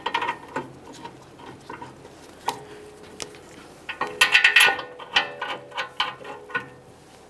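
A ratchet tightening the 21mm caliper bracket mounting bolts on a 2015-2020 Ford F-150's rear brakes, with bursts of rapid clicking and metallic knocks, close up, in an otherwise quiet garage with no talk.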